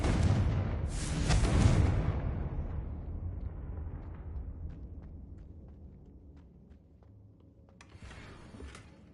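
The Confringo fire spell in the video game Hogwarts Legacy lands as a loud, deep explosive blast that rumbles and slowly fades, followed by a few faint clicks and a softer burst near the end.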